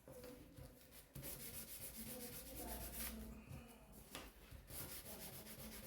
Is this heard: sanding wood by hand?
yes